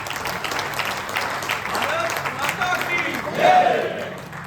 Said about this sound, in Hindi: एक बार फिर से तालियों से उनका स्वागत।